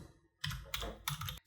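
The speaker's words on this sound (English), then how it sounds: "hit F2 on the keyboard" Keys on a computer keyboard are pressed close to the microphone, a few quick clacks in short separate bursts, quiet and clear with no talking.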